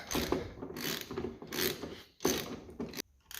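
A ratchet clicks quickly and steadily while it tightens a frame slider bolt on a ZX14R motorcycle, close up, in short bursts of fast pawl clicks separated by brief pauses.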